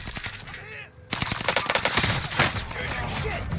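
Rapid bursts of SMG gunfire in the Warzone video game, loud and close, hammering almost without pause after a brief quieter opening.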